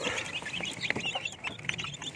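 Young chicks and chickens cheep and peep in a busy, overlapping chorus at moderate distance, with rapid high calls close together and no talk.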